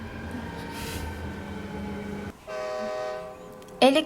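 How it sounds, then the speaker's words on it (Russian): A metro train rolls past with a steady rumble and sustained tonal whine, briefly dropping off midway before a horn-like toot sounds near the end. "Метро."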